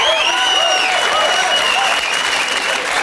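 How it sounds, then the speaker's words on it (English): A studio audience at a comedy show applauding for MC Hammer, dense sustained clapping filling the room, loud and even throughout with a few whistles or cheers on top. "A big round of applause for MC Hammer"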